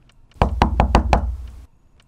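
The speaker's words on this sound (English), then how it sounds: "I was face to face with the room 332. I knocked." Five quick, evenly spaced knocks on a hotel room door, close and crisp, then a brief silence.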